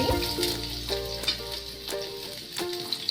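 Onion fries in hot oil with a steady, close crackling sizzle that continues throughout, with tonal background music underneath.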